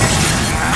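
A Bombarda blasting spell from the game Hogwarts Legacy erupts as a loud, dense, shattering burst of noise that fills the short moment without pause.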